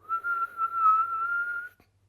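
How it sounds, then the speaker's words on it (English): A single steady whistling inhale during a breathing exercise, a soft, clear tone held for nearly two seconds, close and quiet with no talking. "you inhale like this, with a little whistling sound if you can get it"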